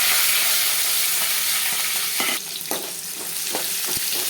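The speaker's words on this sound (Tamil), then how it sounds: "வெங்காயம் நல்லா வதங்கட்டுங்க." Chopped onions sautéing with cumin in a little oil, a loud, close, continuous sizzle, joined partway through by a few sharp stirring knocks against the pan.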